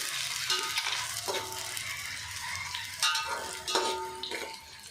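Eggs fry in a pan as they brown and are stirred, with a soft sizzle under repeated scraping spatula strokes that come in uneven bursts, close and fairly clear.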